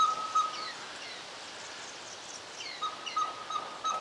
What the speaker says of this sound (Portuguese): vários pássaros surgiram do nada e ficaram alvoroçados